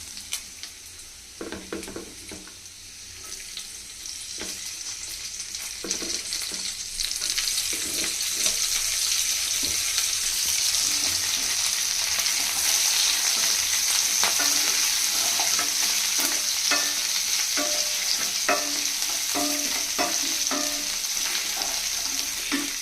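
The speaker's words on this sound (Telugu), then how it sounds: "జింజర్ గార్లిక్ ఫ్రై అయిన తర్వాత ఇందులోకి మనం గ్రీన్ చిల్లీ యాడ్ చేద్దాం" Ginger, garlic and green chilli fry in a pan with a steady, continuous sizzle that swells and settles into a bright hiss, with occasional stirring clinks and scrapes underneath.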